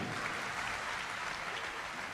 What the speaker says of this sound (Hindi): आइए जोरदार तालियों के साथ।